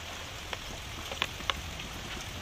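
Steady rain falls outdoors during planting, a constant fine hiss with a few sharper drips tapping close by.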